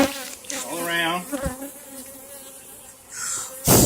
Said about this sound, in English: Then you shake your bees. Get them really well coated all around.